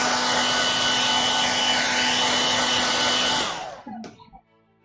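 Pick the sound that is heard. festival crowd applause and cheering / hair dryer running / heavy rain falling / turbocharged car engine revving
hair dryer running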